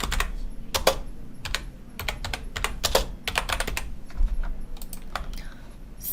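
Keys clatter on a computer keyboard as placeholder text is typed into an HTML form field, in irregular bursts of close, crisp clicks with short pauses between words.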